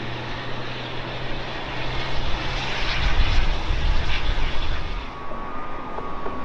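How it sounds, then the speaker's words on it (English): A Malaysian Airlines Airbus A350 airliner arriving from Kuala Lumpur passes overhead on its landing approach, its engines a broad, steady roar that swells to a peak midway and then eases off, with no talk. "It's Malaysian Airlines, their Airbus A350 coming in from Kuala Lumpur."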